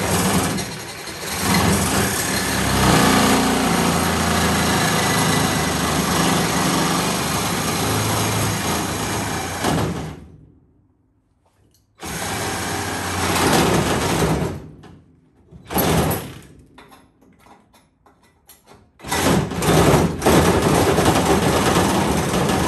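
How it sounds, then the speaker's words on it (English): A power saw cuts through a car's exhaust pipe and muffler, a loud sustained buzzing for about ten seconds, then stopping and restarting in shorter bursts with silent gaps between. "I can't get access to that until I get the exhaust pipe out, muffler out. So, I'm gonna cut it out."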